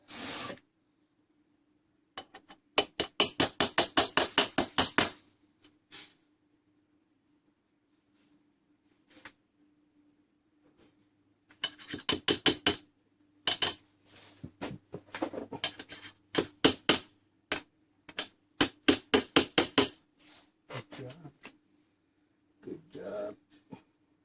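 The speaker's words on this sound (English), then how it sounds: "Got a little brass hammer for that job." Bursts of rapid, sharp metallic taps from a small brass hammer tapping in pins on a ship's fusee clock, in quick rhythmic runs separated by pauses, close and crisp, with a faint steady hum beneath.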